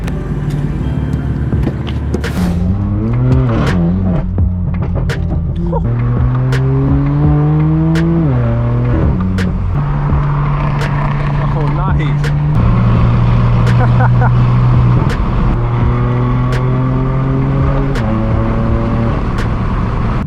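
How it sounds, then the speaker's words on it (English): A straight-piped BMW M4 F82 drives with a loud, raw exhaust, its engine note rising through repeated gear pulls and shifting for the whole stretch, heard from inside the car with a voice talking over it. "You guys join us here with my straight pipe BMW M4"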